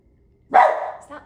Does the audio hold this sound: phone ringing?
no